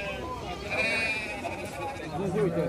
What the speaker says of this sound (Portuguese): Olha o bode bonito aí